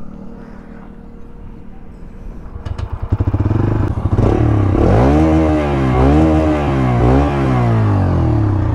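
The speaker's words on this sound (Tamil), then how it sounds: "ஸ்டார்ட் பண்ணிட்டு எக்ஸாஸ்ட் நோட் கேட்போவாங்க" A motorcycle engine cranks and fires up about a third of the way in, then its exhaust note settles into a loud, close idle broken by repeated throttle blips that rise and fall in pitch.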